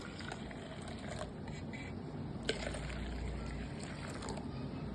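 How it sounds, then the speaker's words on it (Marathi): Milk is poured into a pot for vermicelli kheer, a soft, close liquid splash and trickle running steadily for a few seconds in a quiet kitchen. "एक अर्धा लिटर होईल एवढं मी दूध ओतणार आहे बघा यामध्ये"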